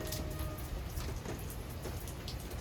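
Steady rain pours near a New Jersey railway line, a dense continuous hiss with scattered drips and spatters close by and no voices.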